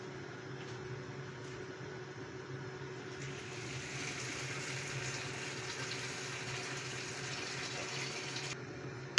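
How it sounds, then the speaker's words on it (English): Water running into a cooking pot for a dried-fish curry, filling it to the top. A faint, steady hiss grows a little fuller partway through and ends with a small click. "when you fill it up right to the top with water"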